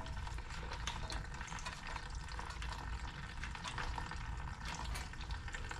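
Liquid drains from the drain plug of a Predator 4000 generator, making a steady close trickling, splashing wash of sound that keeps up without a break.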